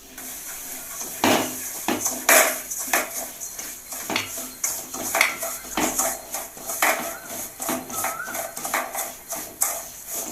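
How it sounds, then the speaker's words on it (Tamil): Semolina is roasted in ghee on a low flame for rava kesari, with a utensil repeatedly scraping and clinking against the pan in an irregular rhythm, close and moderately loud. "சிம் ஃப்ளேமில் வச்சு ரவையை நல்லா வறுத்து விட்டுக்கோங்க"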